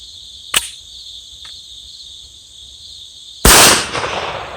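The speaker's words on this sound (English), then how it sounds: "Go ahead and load it back up and see if it'll fire." A 2018 Kel-Tec PMR-30 pistol fires a reloaded CCI Maximag hollow point round outdoors on wet ground: a faint snap first, then one loud, sharp shot with a short ring-off, while crickets chirp steadily throughout.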